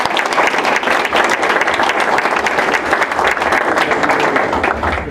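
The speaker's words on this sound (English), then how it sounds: "A round of applause for all of our presenters," Audience applause for presenters at a county broadband discussion, a loud, close burst of many hands clapping at a fast, even patter that holds steady for several seconds.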